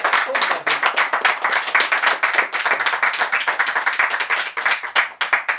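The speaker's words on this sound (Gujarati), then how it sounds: "એક વખત જોરદાર તાળીઓ" A seated audience at a Gujarati film event claps loudly and steadily in dense, continuous applause that lasts several seconds close to the microphone.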